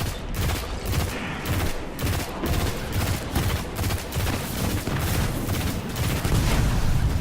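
Rapid bursts of pulse rifle fire at 900 RPM in the Destiny video game, dense repeated gunshot volleys crackling loudly and continuously for several seconds with no talk.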